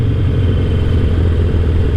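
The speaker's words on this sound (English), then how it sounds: "This super low compression, lumpy engine" A Harley-Davidson Roadster 1200 with low compression and a full Vance and Hines exhaust idles in a loud, close, continuous lumpy rumble with deep pulsing low end and no talking.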